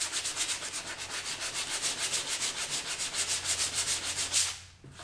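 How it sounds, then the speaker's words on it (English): Sandpaper rubs rapidly back and forth on a plastic kayak hull in a steady rhythm of about four strokes per second, close and scratchy, stopping near the end. "I'm just going to sand it down a little bit."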